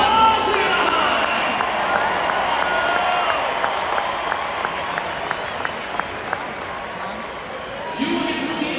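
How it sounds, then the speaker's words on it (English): Large stadium crowd at a Monster Energy Supercross season opener in Anaheim applauds and cheers for young KTM Junior riders, a steady broad roar of clapping sustained throughout with an announcer's voice over it. "Let's get a big round of applause in the high."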